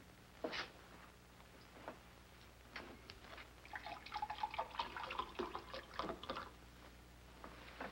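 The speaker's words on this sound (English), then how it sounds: "Would you pour some water in here" Water is poured into a clean drinking glass, a faint, quiet trickle with a few scattered splashes and drips that swell briefly in the middle, heard alone in a still room.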